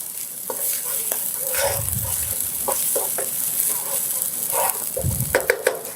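A wooden spoon stirs and scrapes in a non-stick pan, with soft repeated strokes over a gentle frying sizzle, close and clear with no talking.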